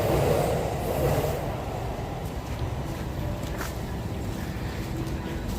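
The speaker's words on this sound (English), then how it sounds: "I think you can hear the sound of the trains passing" A steady low rumble of Tokyo Metro Hibiya Line trains rolling by overhead, with faint squeals and clatter, continuous and moderately loud with no voices.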